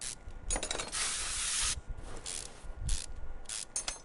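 Rusted bolts being unscrewed in Car Mechanic Simulator 2021, heard as a run of close, bright ratcheting and clinking bursts separated by short gaps, with no talk over them.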